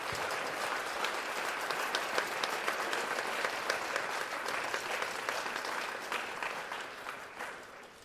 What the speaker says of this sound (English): So I just wanted to give a round of applause to these special people